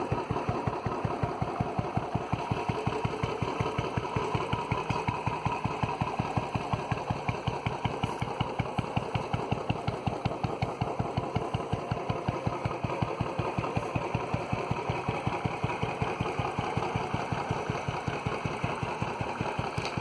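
A Royal Enfield Bullet 350 motorcycle engine idles steadily with a deep, rapid, even thump from its Red Rooster aftermarket exhaust, close and sustained throughout.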